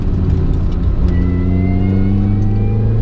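A loud, steady engine drone comes from inside an R53 Mini Cooper S driving on wet roads through confined spaces. The drone climbs in pitch as the car accelerates and carries on without pause, with no voices.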